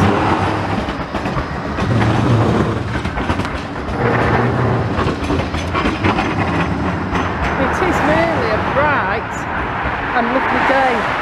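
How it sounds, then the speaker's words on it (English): A Blackpool tram passes along the promenade with a rumbling, clattering roll and brief wheel squeals, loud and close, while people talk over it. "You can hear that unmistakable tram sound."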